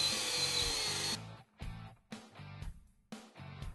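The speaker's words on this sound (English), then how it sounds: "we're going to drill a hole in our switch panel" A power drill bores a hole in a plastic switch panel on an E-Z-Go TXT golf cart, a steady whine at first, then several short on-off bursts with quiet gaps between them, close and alone.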